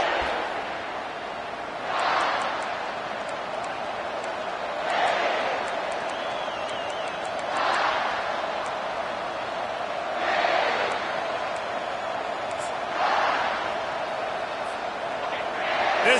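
A football stadium crowd roars in repeated swells every few seconds, a broad, distant-sounding wash of noise under steady announcer commentary.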